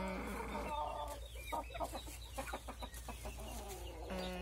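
Chickens cluck close by, an old rooster that is moulting among them with a new hen, in the pens of an ornamental bird breeder's farm; several clucks and calls run through with a steady background hum.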